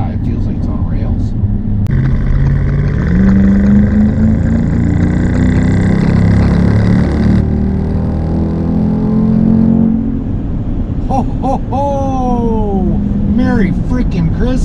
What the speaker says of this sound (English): Just want to test out the exhaust, that's all. Oh man, this thing sounds awesome.